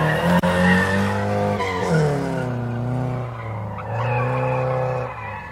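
Drift car tires skidding loudly through a qualifying run, a sustained squealing screech with shifting pitch that rises and falls across the whole stretch, engine noise blended underneath.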